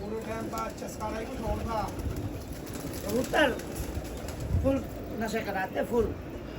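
Pigeons worth tens of thousands coo in a series of throaty calls over a steady background hum, with a voice talking in between.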